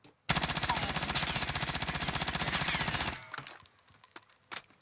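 PPSh-41 submachine gun in Warzone unloading one long, loud, fast full-auto burst of about three seconds, dense rapid crackling shots, followed by quieter clinking and scattered clatter.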